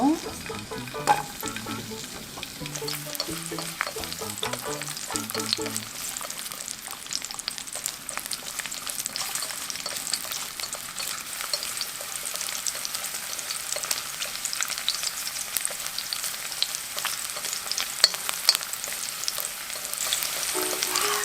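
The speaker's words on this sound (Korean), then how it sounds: "그리고 마늘 넣어주세요" Garlic fries in a pan for cream udon with a loud, dense sizzle that crackles steadily throughout. Stirring scrapes mix in, and a few short melodic notes sound at the start.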